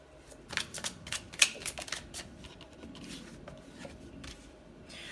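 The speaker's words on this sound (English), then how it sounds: "I'm just going to get the cards laid out before I try and see what the story is going to be" Tarot cards laid out on a table, a string of quiet close taps, flicks and slides of card stock, uneven and sparse, no talk.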